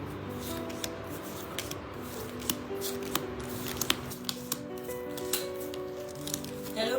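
Playing cards counted by hand, a steady run of soft flicks, riffles and rubbing paper snaps close up, with faint background tones and no talk.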